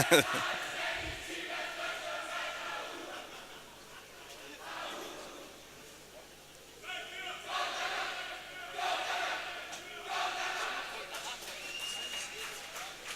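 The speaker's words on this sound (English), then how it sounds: "they're chanting away here in the venue" A crowd at a swimming venue during an international swim meet chants in waves under a commentator's ongoing talk, the voices distant and reverberant, swelling and fading.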